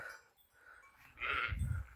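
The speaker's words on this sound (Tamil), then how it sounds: "எங்களோட வெள்ளாடு நிற்கிது அங்கால செம்மறி ஆடு நிற்கிது" Goats and sheep on an Italian mountainside give a single faint, drawn-out bleat over quiet outdoor air, heard from some distance.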